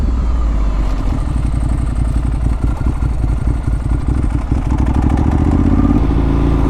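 A Ducati 1098 sport motorcycle revs hard during a wheelie, its engine note steady and loud throughout with rapid throttle pulses and a pulsing rhythm, recorded close with no talking.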